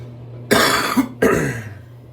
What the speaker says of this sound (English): Sorry about the coughing fit there.